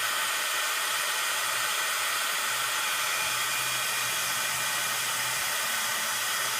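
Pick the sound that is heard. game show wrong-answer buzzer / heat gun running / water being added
heat gun running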